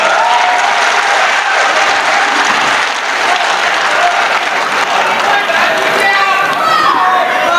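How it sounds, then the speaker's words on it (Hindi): Loud, sustained applause from a large audience at a poetry gathering (mushaira) at a college in Hyderabad, steady throughout with a dense crowd wash. "एक मर्तबा जोरदार तालियां बजा दीजिए आप।"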